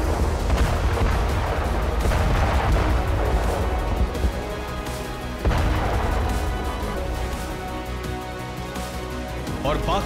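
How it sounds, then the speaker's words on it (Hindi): Russian rockets fired at Ukrainian positions in Avdiivka make loud, repeated booming blasts and crashes that roll on continuously, with a voice faintly under the barrage. "अवदीपका में रूस की तरफ से लगातार रॉकेट दागे जा रहे हैं"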